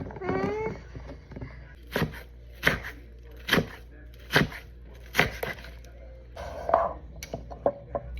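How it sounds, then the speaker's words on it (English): A knife chops through red and green mild peppers on a cutting board, about eight evenly spaced firm thuds heard close up over a quiet room. "So I'm gonna cut these first, the red and the green, and this one, which these are all mild peppers."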